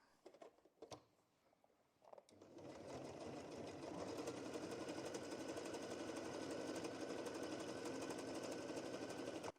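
A Singer 4432 heavy-duty sewing machine stitches through thick folded layers. After a few clicks and handling noises it starts up into a loud, steady, rapid mechanical hammering that keeps going to the end.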